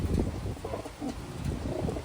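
Soft cooing of pigeons or doves among a group of young Taiwan pigeons, several low rounded coos repeating close by at a quiet level, no speech.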